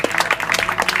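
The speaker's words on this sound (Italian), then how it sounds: "credo sia da fare un applauso a Leonardo per quello che ha fatto in queste 2" Brief burst of applause from a small group at the close of a two-week goalkeeper training course, uneven hand claps packed close together for about a second.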